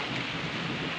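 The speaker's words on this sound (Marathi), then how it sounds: "पाऊस चालू आहे. उन्हाळ्यात पाऊस चालू आहे आता." Heavy summer rain pours down with a deep rumble of thunder, a dense continuous hiss and roll filling the brief moment at close range with no voices.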